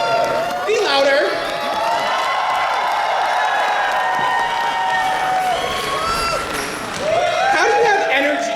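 Audience at a dance competition cheering and whooping, with shouts and a steady crowd roar over most of the stretch and voices rising loudly again near the end.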